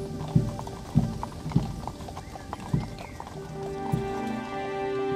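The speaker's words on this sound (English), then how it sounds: "the steady cadence of a horse-drawn caisson" Slow, steady clip-clop of horse hooves pulling a caisson at Arlington, about one strike per second, fairly close and distinct, followed by a rising held musical tone, with no speech.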